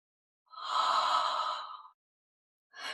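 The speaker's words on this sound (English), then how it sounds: "Try exhaling as if you were fogging a mirror." Open-mouthed exhale with a soft breathy ha quality, like fogging a mirror, a single smooth breath of about a second and a half heard close and alone, with the start of another breath at the end.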